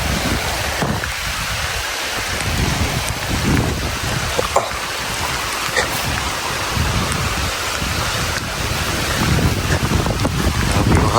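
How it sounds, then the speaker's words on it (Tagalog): Strong wind blows steadily across an upland field of rice and corn, buffeting the microphone with a continuous loud roar and gusty rumble, with no voices. "Grabe yung hangin."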